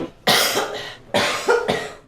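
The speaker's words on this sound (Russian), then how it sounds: "Частый и сухой кашель." A patient with coronavirus gives a frequent dry cough, heard as two close pairs of harsh, loud bursts with no talking.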